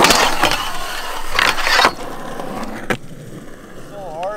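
Skateboard wheels roll loudly over concrete at a skatepark, with clacks and thumps from tricks on a flat bar, up close and steady for a few seconds.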